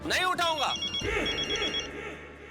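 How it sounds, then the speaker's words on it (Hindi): A telephone rings indoors in a Hindi sitcom scene, its electronic ringing tone repeating for a couple of seconds while voices talk over it. "लो, नाम लियो और तुम्हारा फोन बजा।"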